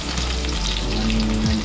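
Garlic frying in a pan as the base for a home-style chicken curry makes a close, steady hiss and crackle that holds without a break through the short clip, with a faint low hum underneath.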